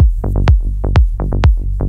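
A melodic techno low end plays alone: a punchy kick drum repeating in a steady four-beat pattern, locked with a deep rolling sub bass and bass notes that pulse between the hits.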